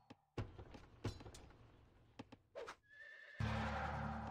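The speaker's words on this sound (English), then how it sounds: "He has two white horses here." Horses neighing in the medieval strategy game Rise of Nations, a brief whinny rising over scattered in-game impacts and battle noise, followed by a burst of louder clatter.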